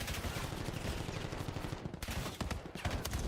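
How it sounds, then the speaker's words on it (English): Dense, rattling automatic gunfire from a Call of Duty esports match, with rapid overlapping shots that keep up loud and unbroken for the whole stretch. "what a rattler gunfire"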